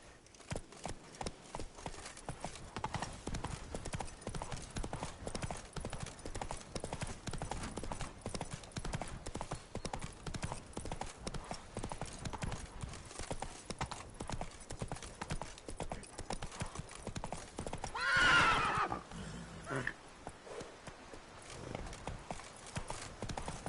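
Roach, the horse in The Witcher 3: Blood and Wine, gallops with rapid rhythmic hoofbeats throughout, a brief whinny rising near the end, with a faint voice occasionally over the steady clip-clop.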